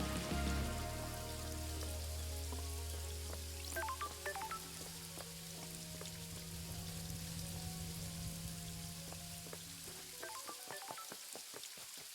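Rain falls steadily in the video game Paradise Killer as a continuous patter. Layered game music tones and a low hum play over it.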